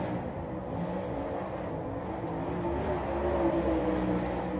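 A Lucas Oil late model race car runs a lap at the Tri-City dirt track, its engine a loud, steady roar that swells slightly toward the end.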